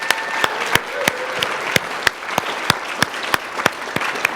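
A room of people claps steadily, with a few loud, sharp claps standing out in a regular rhythm over the general applause.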